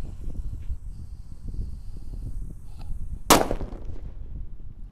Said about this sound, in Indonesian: Di sini ada mercon sunflower. Ini juga banter bledosnya.